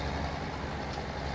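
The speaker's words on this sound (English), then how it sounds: "Let's see if the tractor will fit in there" A tractor in Farming Simulator 2017 drives with a steady, low engine drone that holds even and continuous throughout, moderately loud with no breaks or voices.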